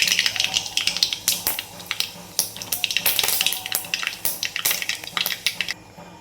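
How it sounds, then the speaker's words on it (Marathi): Mustard seeds hitting hot oil in a kadhai, crackling and popping in a dense run of sharp clicks and spits that stay close and loud, then stop near the end. "मोहरी तडतडली"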